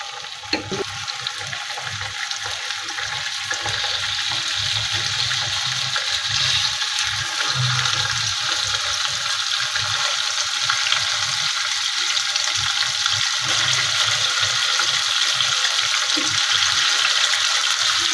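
Chicken pieces coated in turmeric fry in oil in a pan on a village stove, giving a steady close sizzle that runs unbroken and evenly loud throughout.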